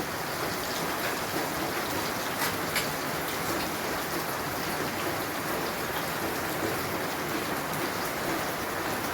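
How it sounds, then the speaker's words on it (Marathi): Heavy rain pours steadily, a dense, even hiss of drops with no pauses, loud and close throughout. "तिकडे लय पाऊस चालू आहे बघा मित्रांना पाऊस खूप चालू आहे"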